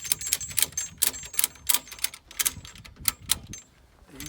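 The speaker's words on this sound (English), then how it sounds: "Carry our ratchet to neutral. Just pull it out. And then you just click it." A Strapinno ratchet strap's ratchet being worked: a quick, uneven run of sharp, close clicks, fairly quiet, with no voices over it.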